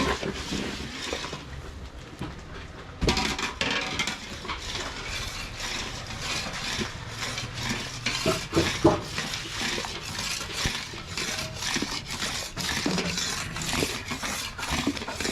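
Milk being stirred and scraped in a pan while it cooks down into khoya, a continuous rhythmic scraping and clatter that turns louder and busier partway through.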